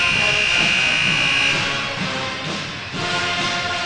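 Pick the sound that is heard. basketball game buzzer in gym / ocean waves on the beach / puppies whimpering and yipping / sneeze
basketball game buzzer in gym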